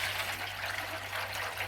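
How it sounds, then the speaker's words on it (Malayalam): Water poured from a cup during rubber sheet production in Kerala, a steady close splashing hiss with no voices over it. "ഇങ്ങനെ ഒഴിക്കും."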